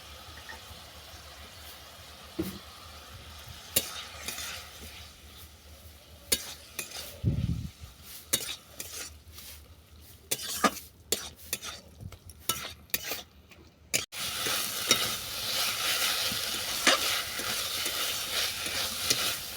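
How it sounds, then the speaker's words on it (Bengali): Bottle gourd greens with peanuts, poppy seed and green chili paste stir-fried in a pan: soft hiss under intermittent clinks and scrapes of a spatula, a brief low thump midway, then louder steady sizzling toward the end. "নেড়ে ছেড়ে আমি লাউ শাকটাকে ভালো করে কষিয়ে নেব।"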